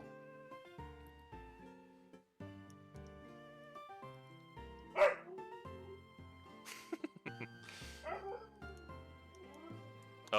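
A real dog named Atlas yips and whimpers in the background during video game play, with short sharp bursts scattered over steady game music.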